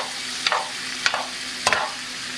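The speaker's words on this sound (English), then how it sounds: "So now we just stir this on up." A seafood mixture with shrimp, lobster and Cajun seasoning is stirred in a pan, three soft scraping strokes at an even pace over a low sizzle.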